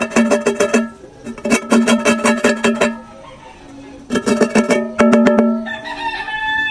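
A chicken clucks and crows loudly and close by in repeated bursts with brief gaps, the calls dominating the scene.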